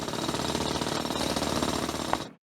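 A mining drill in the video game Chipmatic grinds through coal rock with a dense, continuous rattling hammer, loud and steady, running hot, then cutting off abruptly.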